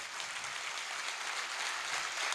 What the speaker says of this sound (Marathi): टाळ्या वाजवून जोरदार त्यांचं स्वागत करावं